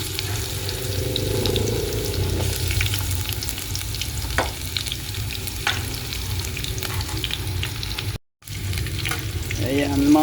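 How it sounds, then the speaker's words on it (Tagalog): Chopped onion and garlic sauté in a hot pan with a loud, steady sizzle and occasional scrapes of stirring, interrupted by a brief silent gap before the frying resumes. "lalagay na natin ang ating sibuyas at bawang mga idol"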